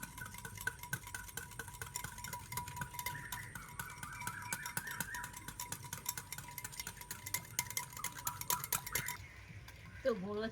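Powdered sugar and sour yogurt are beaten together in a bowl, giving a steady run of quiet, rapid clinks and taps that continue throughout, with a brief voice near the end.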